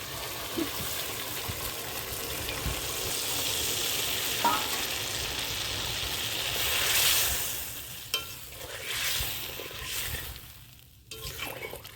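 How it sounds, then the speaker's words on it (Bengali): Water poured into a pan of frying shrimp and hilsa fish, where a steady loud sizzle swells and hisses and then breaks into sputtering pops and crackles as the liquid hits the hot oil, with no voices. "এখন পরিমাণ মতো জল দিয়ে দেবো।"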